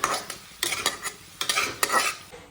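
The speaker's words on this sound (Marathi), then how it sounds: "तर आता हे परतून घेऊया असं परतून घ्यायचे" Egg fried rice is stir-fried in a hot pan, with bursts of sizzling and the rhythmic scrape of a spatula tossing the rice, close and loud with no talk.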